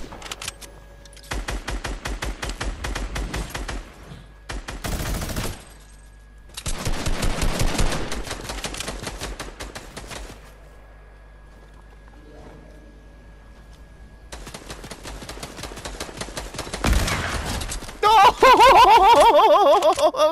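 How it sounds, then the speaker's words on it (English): Sniper rifle shots in a Fortnite match ring out as several separated loud bursts with gaps of quiet between them, with game sounds and a brief voice near the end. "That was a blind shot"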